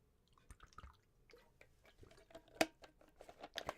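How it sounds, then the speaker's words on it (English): Water drips and trickles while a jug is filled at home, giving scattered small wet plinks and splashes of varying loudness, quiet overall, with no talk. "Oh no, gotta fill the water jug."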